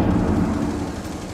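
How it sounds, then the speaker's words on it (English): A flashbang grenade bursts in Rainbow Six Siege, a loud, booming, rumbling blast that fades over about a second. "Flashbang."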